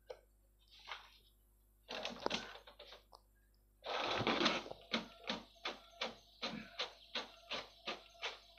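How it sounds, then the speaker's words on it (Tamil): A Brother DCP-T710W all-in-one inkjet printer printing in black, starting with whirring and mechanical clatter, then settling into a regular run of rhythmic shuttling strokes, close and clear with no talking. "இதே பிரிண்ட் வந்து நான் பிளாக்கில் எடுத்து காமிக்கிறேன்."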